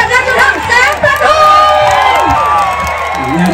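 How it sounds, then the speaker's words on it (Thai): A large crowd at an outdoor political rally in Phichit cheers and shouts loudly, with whoops and high voices overlapping in a dense wash of noise and a voice over a loudspeaker. "ขอเสียงปรบมือดังๆ"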